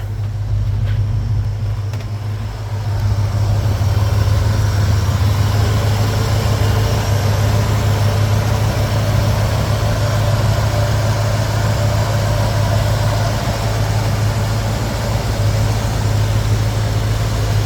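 A cold 1966 Ford Mustang GT engine idles steadily with a deep, constant low rumble, running evenly without revving throughout.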